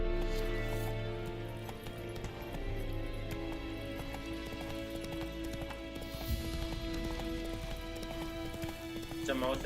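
Galloping hooves of the horse Roach in The Witcher 3 video game, a steady rapid clip-clop running continuously under game music and ambience, with someone talking over it.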